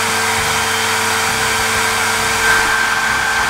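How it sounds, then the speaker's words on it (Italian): A handheld hair dryer blows on damp clothes indoors on a humid night, a loud, close, steady whirring hiss with a thin constant whine that holds unbroken the whole time. "Adesso devo asciugare la roba col phon"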